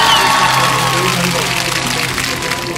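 Audience applause and cheering break out at a street comedy-magic show at Tenma Sanchoku Market, a dense wash of claps and crowd noise holding steady and fairly loud with voices mixed in.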